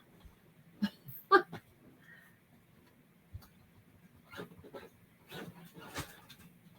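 A small dog indoors makes scattered soft noises, brief snorts, whimpers and panting bursts separated by quiet pauses over a low steady hum.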